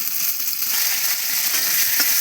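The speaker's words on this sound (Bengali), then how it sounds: "ভালো করে ভেজে নেবো টমেটো আর আলু" Tomato and potato fry in a pan with a loud, close, continuous sizzle, a steady bright hiss with faint stirring scrapes and no voices.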